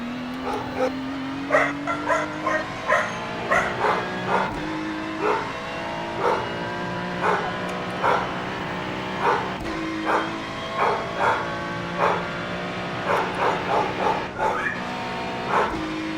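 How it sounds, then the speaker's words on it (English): Hound dogs bark repeatedly in short, fairly regular bursts, moderately close, over a constant low engine-like hum. "I hear the hound dog, and every now and again I hear one of the other ones"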